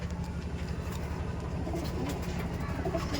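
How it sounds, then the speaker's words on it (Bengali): A male Teddy pigeon of Omani bloodline coos softly and steadily, the low repeated calls sitting in a faint, even background hum with no talking. "এই যে নর পায়রা ছিল ওমানি ব্রাড লাইনের যে টেডি পিয়ার ছিল"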